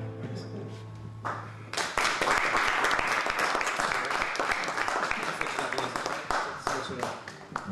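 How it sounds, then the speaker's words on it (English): An audience at a live improv comedy show breaks into a burst of applause, a dense wash of clapping that swells quickly after a brief spoken line and carries on loudly to the end. "By a round of applause"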